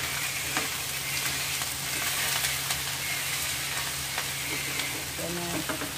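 Noodle soup with ground black pepper stirred in a pot, a soft continuous simmering hiss with light intermittent scrapes and knocks of the utensil, fairly quiet and steady.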